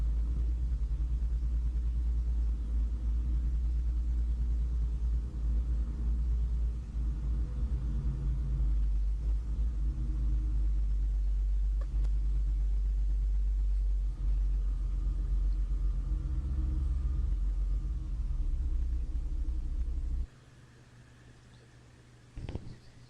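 A Stackmover truck drives and swings into a wide corner, giving a loud, steady low engine rumble that holds for about twenty seconds, then drops away abruptly to a quiet idle with a brief knock near the end.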